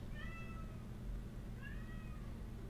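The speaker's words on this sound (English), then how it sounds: "Yes, I hear you, cat." A cat meows twice, high and wavering, against a steady low background hum indoors; no talk is heard.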